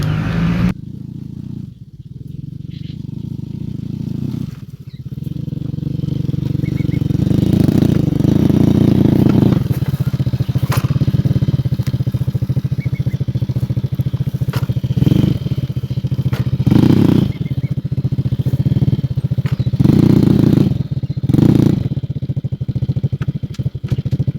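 A motorcycle rides along a rough, rutted path, its engine droning steadily and loudly with repeated surges and rattling clatter.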